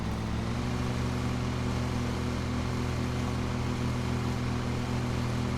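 Riding lawnmower engine in Lawn Mowing Simulator on PS5, a loud, steady, droning hum that runs unbroken throughout without pauses or talk.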